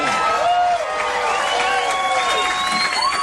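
Audience at a comedy show breaks into loud applause and cheering, with dense clapping and whoops filling the room continuously for several seconds.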